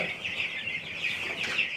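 Giant meat chickens cluck inside a Rocky Mountain coop, a quick run of soft, close clucks and murmurs that is fairly quiet and continuous over the short stretch.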